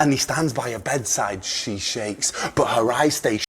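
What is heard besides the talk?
None of the usual background noises is heard.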